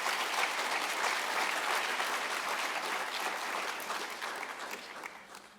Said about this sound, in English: Can we just give a round of applause to Professor Karim?